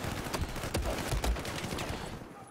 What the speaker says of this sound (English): I'm getting shot from many different angles here.